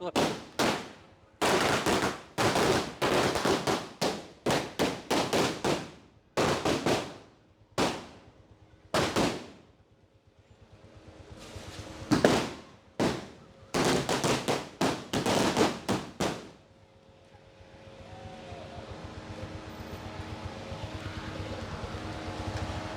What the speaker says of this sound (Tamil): போடு வெடிய போடு